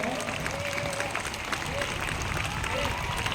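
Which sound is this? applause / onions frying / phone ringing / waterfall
applause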